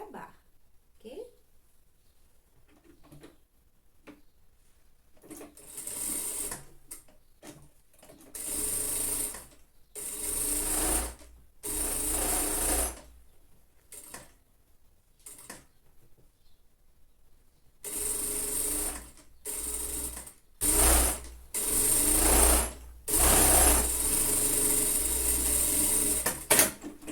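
Bursts of sewing machine stitching as the side seam of a lined child's coat is sewn from sleeve tip to hem, several start-stop runs of varying length, close and fairly loud, with quiet pauses between.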